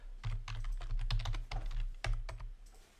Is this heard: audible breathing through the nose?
no